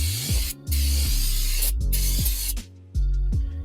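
Aerosol brake cleaner sprayed on the inside of a Toyota Corolla drum brake shoe, several loud close hissing bursts of about half a second to a second each, separated by short pauses.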